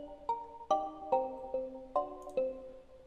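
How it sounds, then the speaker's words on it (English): A bright synth pluck in FL Studio, thickened with the Fruity Chorus fat clean preset, plays a short melodic phrase of about seven evenly spaced chorused notes that ring and decay, with no voices. "I want to put fruity chorus on it and do the fat clean preset."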